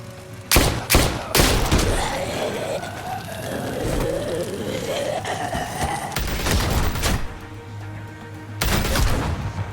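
Gunshots in a zombie-shooting video game, sharp loud cracks at the start and end framing a stretch of wailing siren-like tones and rumble in between.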